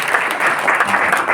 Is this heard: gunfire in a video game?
no